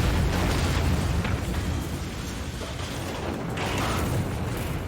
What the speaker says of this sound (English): And very loud explosion.